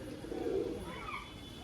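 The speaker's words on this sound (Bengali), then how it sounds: "খুবই সুন্দর কোয়ালিটির পায়রা আছে।" A Madras Giribaz pigeon gives a low, soft coo at close range, followed by faint higher chirps over quiet background noise.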